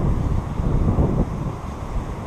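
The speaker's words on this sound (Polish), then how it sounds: "Ale bardzo nieprzyjemny wiatr." Strong, unpleasant wind buffets the microphone during a fishing trip, a loud, continuous low rumble and roar that gusts unevenly throughout with no voices.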